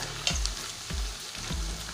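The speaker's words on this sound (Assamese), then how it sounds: "গেছটো ল' ফ্লেমত ৰাখি মই এনেদৰে মাংসবিলাক বনাই আছোঁ" Pork frying in its own rendered oil over a low gas flame: a constant close crackling sizzle, broken three times by soft, low stirring thumps.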